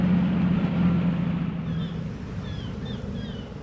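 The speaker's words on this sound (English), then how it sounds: "Do you hear that? Said Guysborough. I don't hear anything, said Theodore. Sounds like an engine." A tugboat's steady low engine rumble drones throughout, with faint wind noise and a few soft high chirps near the end.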